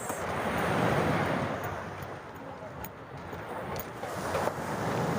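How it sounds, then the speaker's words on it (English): Surf washes steadily onto Mistral Beach in Marbella. A continuous close roar of waves is mixed with gusty wind noise on the microphone, and a voice may be faintly present. "So welcome to Mistral Beach in Marbella."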